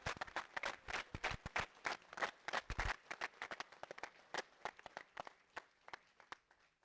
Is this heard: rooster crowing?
no